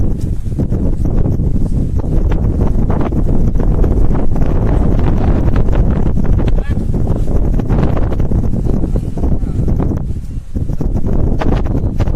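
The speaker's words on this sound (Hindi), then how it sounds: "कहीं एकदम तेज़ हवाएं चल रही थी" Strong wind buffets the microphone on a Gujarat mountain, a loud, continuous low roar with gusty fluctuations and rustling throughout.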